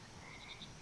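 Frog croaking in the farming sim game Mudborne, a few short bright croaks close together over a low steady ambient bed, faint and alone with no speech.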